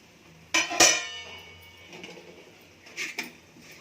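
A metal lid is lifted off a pot of masala rice set on a flat pan, giving two quick clanks with a brief metallic ring. Softer clinks of cookware follow near the end.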